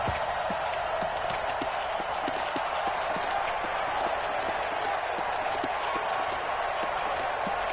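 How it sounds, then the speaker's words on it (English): A dense stadium crowd cheers and roars in a PS4 American football video game. The wash of noise stays steady and loud throughout, with sharp repeated clicks or claps, while a commentator talks over it. "And this crowd loves it as their guys hold on the opening drive."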